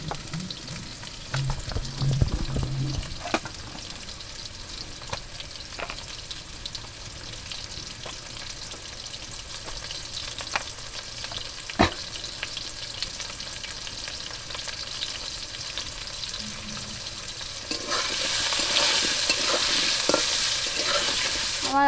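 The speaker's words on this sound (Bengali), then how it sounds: "আমার আলু ভাজা হয়ে গেছে, এবার আমি আলুগুলো তুলে নেবো।" Potatoes fry in a pan with a steady sizzle, scraped and stirred now and then, the frying growing louder and brighter near the end, no voices.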